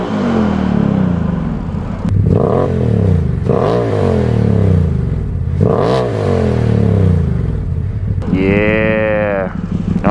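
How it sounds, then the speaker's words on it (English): Ford Maverick engine in sport mode revving up and dropping back several times in a row, loud and close, with quick rising and falling pitch and a brief voice near the end. "It actually seems like it idles, or revs a little quicker."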